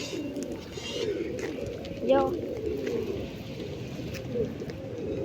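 A flock of pigeons being fed grain coos in a low, steady murmur close by at a seaside chowpatty, with wingbeats and a voice speaking briefly over them.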